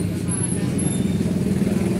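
Dense road traffic with buses and cars on a congested street, a continuous low rumble of engines heard close by without distinct horns or passing vehicles standing out.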